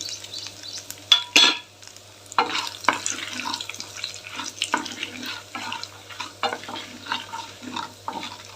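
Five torn dried red chilies hit hot oil in a pan, giving a sharp burst of crackling and then an uneven sizzle with scattered pops and stirring, up close and moderately loud.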